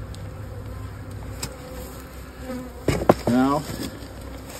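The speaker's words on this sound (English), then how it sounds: "Just keep the bees cozied in there" Honeybees buzz at a hive during winter preparation, a close, steady hum with a few louder passes as individual bees fly near, and a brief spoken word over it.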